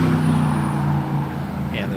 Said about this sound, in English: there's a lot of traffic, a lot of street noise